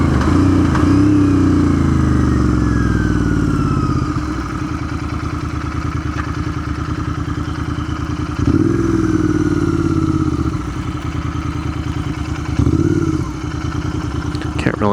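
Royal Enfield Interceptor 650 ridden along the Cabot Trail in Cape Breton, Nova Scotia: steady close engine drone with wind, easing off and then picking up again as the revs shift.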